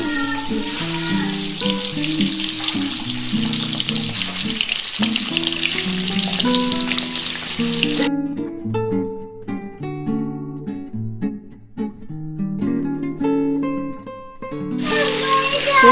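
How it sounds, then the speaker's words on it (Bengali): Steady hiss and sizzle of eggs frying in hot mustard oil in a wok, running continuously beneath loud melodic background music. "তেল গরম হয়ে গেছে, ডিমগুলো আস্তে আস্তে কড়াইয়ের মধ্যে দিয়ে দিচ্ছি"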